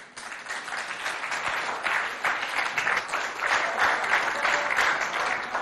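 A school audience applauds a student called up to lead the national anthem at a provincial school event: sustained, dense clapping that swells slightly and stays strong and fairly close throughout, with no talking.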